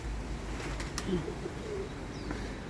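Soft, low cooing from nesting pigeons repeats a few times at moderate distance, with faint chirps and a steady outdoor background.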